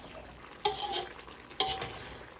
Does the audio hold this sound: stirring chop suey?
yes